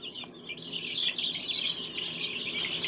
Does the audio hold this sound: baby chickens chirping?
yes